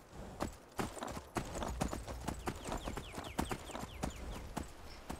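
Horse in the video game Skyrim, hooves clip-clopping in a steady, evenly spaced walking rhythm, crisp and close, with a faint whinny-like call woven through the middle.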